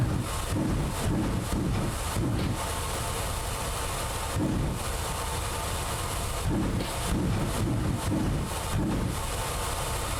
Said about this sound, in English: You can hear the engine struggling.